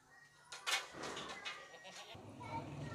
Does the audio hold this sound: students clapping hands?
no